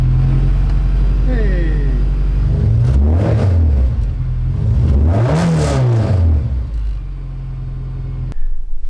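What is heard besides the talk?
Scion FR-S car engine starting and revving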